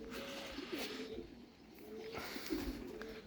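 Racing pigeons coo softly outdoors in a faint, low murmur of repeated calls under a light background hiss.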